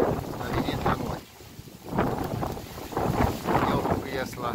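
Gusty winter wind buffets the microphone in loud, rumbling surges in a snowy village, easing briefly before roaring back, with faint speech buried beneath the noise.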